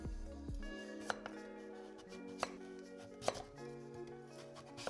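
Seeds scraped out of a halved butternut squash with a spoon, giving a few sparse, faint scraping clicks over steady background music.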